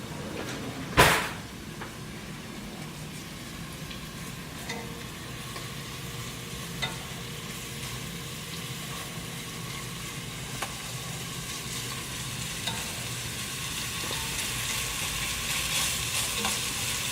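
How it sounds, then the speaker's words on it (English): Meatballs browning in a pan for soup make a continuous low sizzle, with one sharp knock near the start, likely a cupboard or lid, and faint stirring clicks afterward, no talk. "You want to brown those up for about 6 minutes or so."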